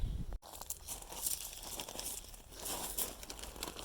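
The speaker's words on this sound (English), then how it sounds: "I'm just going to put the coriander leaves in the plastic bag so they don't dry up" Coriander leaves are pushed into a plastic bag at a field allotment, giving a close, continuous crinkling and rustling of thin plastic for several seconds, with a brief cut near the start.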